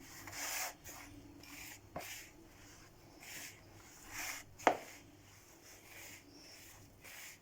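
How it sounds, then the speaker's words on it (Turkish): Dough for crispy flour cookies, with starch added, being kneaded by hand, giving soft, repeated rubbing and pressing strokes at a steady rhythm, close and quiet, with a couple of sharper knocks. "Güzelce yoğurması lazım bunu şimdi iyice"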